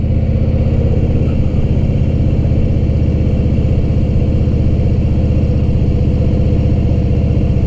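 A car engine pulling along steadily in second gear, its loud, even mid-pitched drone holding close and unbroken with no voices over it.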